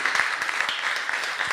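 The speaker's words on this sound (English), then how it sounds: "let's give him a round of applause." An audience at an evening conference claps in a dense, steady round of applause that stays loud and even throughout.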